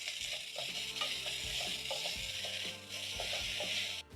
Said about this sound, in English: Then I'm going to add in my onions,